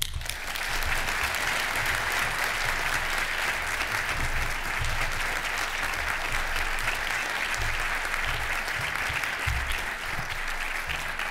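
An audience at an awards ceremony applauds Professor Stephen Pollock, a steady, full round of clapping from a large crowd that holds at even loudness for over ten seconds without letting up.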